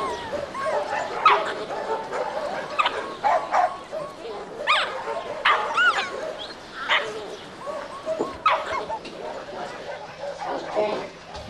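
Small stray puppies at a shelter yip, whimper and bark excitedly in repeated bursts at a kitchen window, close and overlapping, with a voice talking over them.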